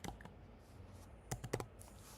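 Soft computer keyboard typing in short bursts, a few faint keystrokes early and then a quick cluster of sharper clicks, close and quiet in an otherwise still room.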